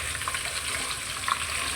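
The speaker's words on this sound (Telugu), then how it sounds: "ఈ ఉడికిన చికెన్ని నూనెలో ఫ్రై చేసుకోవాలి" Pieces of boiled chicken frying in a small amount of hot oil, a steady close crackling sizzle with light popping throughout and no talking.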